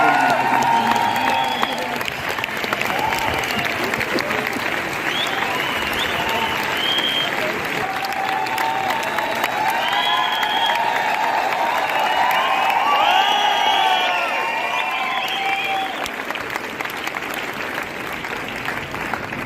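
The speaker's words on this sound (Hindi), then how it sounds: "तो मेरा ख्याल से मैं जोरदार तालियों के साथ कुलदीप जी को बुलाऊंगा।" Loud, sustained applause from a large audience at a Vestige corporate event welcomes a guest onto the stage, with dense clapping and a few cheers and shouts running for many seconds before easing slightly.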